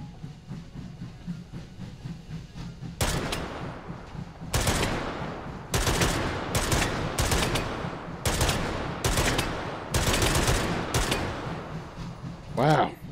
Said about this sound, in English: Wow, this is a pretty nice, I don't know what to classify this, a light machine gun?